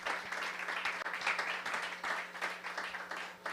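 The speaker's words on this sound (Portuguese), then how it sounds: "eu queria pedir uma salva de palmas aos dois pelo serviço prestado" Brief applause at a ceremony honoring a club president and events director, an uneven patter of clapping that swells and dips over a few seconds, fairly quiet, with a low steady hum beneath.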